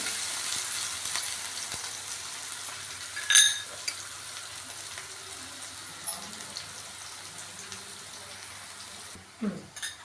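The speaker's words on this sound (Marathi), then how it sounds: "कांदा छान गुलाबी होईपर्यंत परतून घ्यायचा आहे" Onion sautéing in a pan with garlic and green chilli: a steady soft sizzle throughout, with a few scraping stirs and light clinks, close by and without talking.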